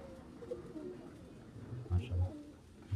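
Racing pigeon cooing in soft, low rounded bursts, clearest near the end, over a faint background murmur.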